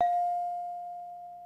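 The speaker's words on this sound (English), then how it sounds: "Is that bell still working, Clark, or no?" Studio bell on a sports radio show struck once, a clear close ding with a pure sustained tone that slowly fades, heard alone.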